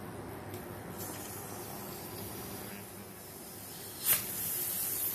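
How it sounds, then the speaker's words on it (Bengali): Pressure cooker whistling while cooking dal in a home kitchen, a steady hissing steam release running throughout with a brief sharper burst near the end. "আর এই দেখুন ডালের সিটি পড়ছে, ডালের সিটি পড়ছে"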